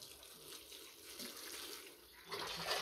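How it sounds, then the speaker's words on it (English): Water running from a tap into a container for moistening kale seed-starting mix, a faint, steady splashing trickle that swells slightly louder toward the end, with no talking. "And then we're going to add some water."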